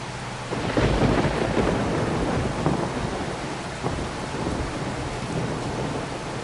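Heavy rain and rolling thunder in the video game Farming Simulator 25, a steady loud downpour with low rumbles swelling and fading throughout, no voices.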